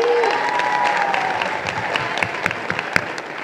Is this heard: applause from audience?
yes